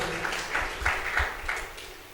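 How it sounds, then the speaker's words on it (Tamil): A church congregation claps together in a fairly steady rhythm, about six soft, rounded claps spread over two seconds, with a slightly reverberant room tone beneath. "கைத்தட்டு அப்பாவுக்கு நன்றி சொல்லுங்க"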